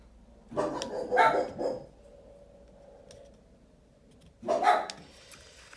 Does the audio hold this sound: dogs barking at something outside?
yes